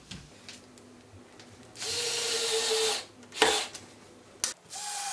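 A power driver turns screws to adjust a stuck door latch, with a short buzzing whir followed by a couple of quick spin bursts and clicks, close by and without talk.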